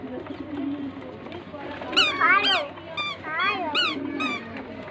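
Pigeons being fed grain coo softly and low nearby, while a child and an adult call out over them in high, rising voices.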